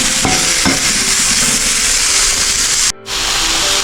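Carrots stir-fry in a hot pan with a loud, steady sizzle close up and a few scraping stirs, broken by a brief pause near the end.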